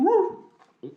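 A dog close by gives a drawn-out, whining bark that fades, then a shorter second yelp after a brief pause, with no talk over it.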